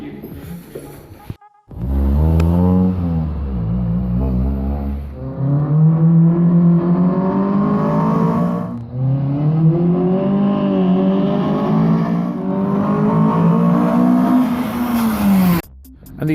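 A car engine drones and climbs in pitch through repeated acceleration runs, dipping and rising again as it circles, steady and close.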